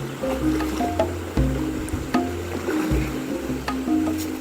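Cast fishing net splashing into a shallow river, with a few soft wet slaps and squishy water sounds at irregular intervals over a steady murmur of flowing water and faint tonal background sounds.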